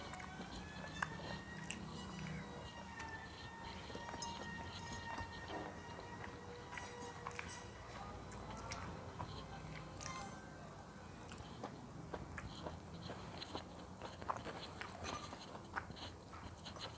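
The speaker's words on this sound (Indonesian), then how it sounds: "Sayurnya kriuk-kriuk." Crunchy vegetables are chewed close to the microphone in a steady run of crisp bites and squishy crunches, soft but continuous, with no talking.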